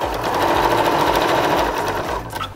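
A sewing machine stitches ribbon onto fabric squares for a drawstring bag, running in a steady, loud, continuous whir with a fast mechanical needle rhythm throughout and no talking.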